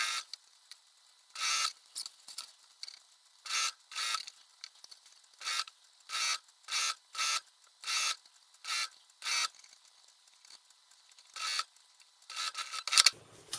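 A sewing machine stitches softshell vest fabric, the feed mechanism driving the material. It runs in about a dozen short, even bursts of mechanical whirring with brief pauses between, close up and with no talking.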